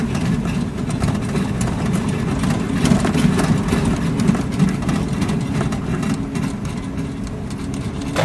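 Airship engines in the Microsoft Flight Simulator 2020 game drone in a loud, continuous low rumble, steady throughout with no pauses and no talking over it.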